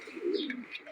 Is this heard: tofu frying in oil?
no